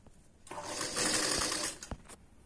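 A sewing machine stitches piping onto a blouse with a steady, close whirring run of about a second and a half, then stops, followed by a few brief clicks.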